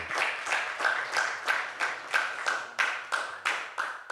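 A church congregation at a Christian convention applauds in rhythmic unison, steady loud clapping in regular beats with a sustained high tone running through it; no speech.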